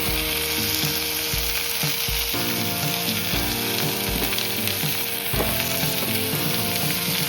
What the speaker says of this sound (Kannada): ಸೊ ಅಲ್ಲಿ ತನಕ ಹೈ ಫ್ಲೇಮಲ್ಲೇ ಫ್ರೈ ಮಾಡ್ಕೊಳ್ಳೋಣ